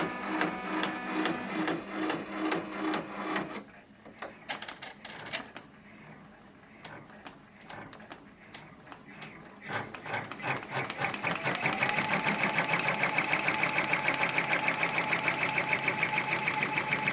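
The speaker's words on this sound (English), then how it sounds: "So now I'm going to go ahead and start the machine for the back die line." An embroidery machine stitches a faux leather owl purse, running in a rapid mechanical rhythm that starts and stops, then settles into a steady, louder whirring stitch close by.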